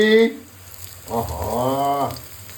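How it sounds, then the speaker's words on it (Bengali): Chopped onion and garlic frying in fish oil in a pan for a Bengali boal fish curry, a soft steady sizzle rising after a brief voice. "মাছের তেলে একটু পেঁয়াজ দিয়ে দিলাম, দেবো একটু রসুন কুচি"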